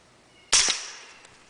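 A single suppressed 9mm gunshot through a Liberty Mystic suppressor: one sharp, loud crack followed by a decaying tail and a faint later tick, outdoors with no talking.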